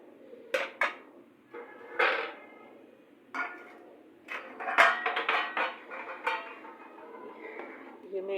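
Cooked meat for haleem being scooped from a pot into a wide pan, with repeated metallic clinks and scrapes of a spoon against the metal vessels, close and irregular, with a few soft bursts between.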